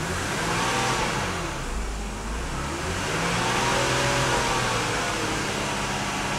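A BMW engine with a Vanos fault and low oil pressure is revved, a continuous loud mechanical drone rising and falling in pitch as the revs climb and ease back.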